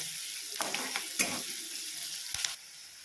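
Finely chopped onion sautés in a pan until golden for dhaba-style palak paneer, a dense hissing sizzle broken by a few stirring scrapes and clanks before it quiets near the end.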